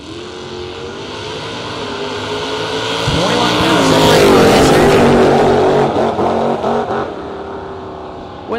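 Drag race cars, among them a Mustang GT, launch off the line at a footbrake drag racing event, their engines building to a loud roaring crescendo and then fading down the track.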